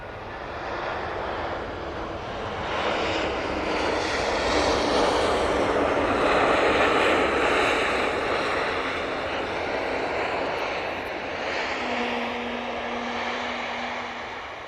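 An airliner touches down at Manchester Airport after a slightly floaty approach, its broad engine roar swelling through the middle and easing off, with a steady tone emerging near the end and wind noise underneath.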